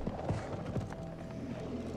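Horses clip-clopping in the Gears of War 4 video game, a quick run of hoof knocks heard at moderate distance over low background noise.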